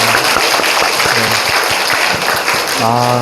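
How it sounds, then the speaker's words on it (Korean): A Korean church congregation bursts into applause during Sunday worship, broad steady clapping under a raised voice, with a sustained tone coming in near the end. "하나님께 기쁨으로 큰 박수로 함께 영광의 박수 올려드리겠습니다"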